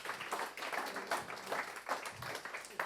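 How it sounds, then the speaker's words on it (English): Applause from an audience at a talk, a fairly faint round of clapping from the crowd that continues steadily without speech. "Can we just give another round of applause for Pete?"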